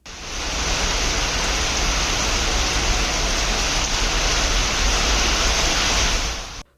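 Heavy rain pours in a steady, dense roar of broadband hiss during a downpour that floods roads and overflows drains, loud and unbroken for nearly seven seconds with no voices.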